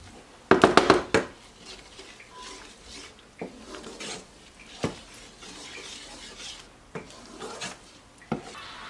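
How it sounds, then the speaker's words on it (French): Salmon fillet being stirred with butter and fresh parsley in a pan, heard as a cluster of loud clinking utensil scrapes at the start, then scattered softer taps and scrapes at close range. "Je vais aller ajouter le beurre et je vais juste mélanger."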